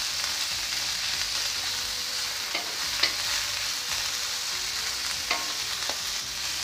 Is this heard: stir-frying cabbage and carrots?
yes